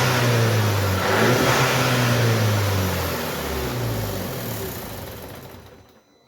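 A car engine revs repeatedly in a sound test, steady loud mid-pitched drones rising and falling before fading out near the end, with no talk.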